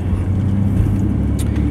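Steady low rumble from inside a moving car, a constant road and engine drone with no distinct events, loud and close throughout.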